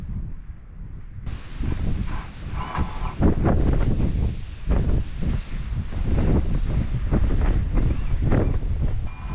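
Strong, gusty wind hits a pole barn house build site in loud surging blasts with rustling and microphone buffeting, rising and falling over several seconds with no talking.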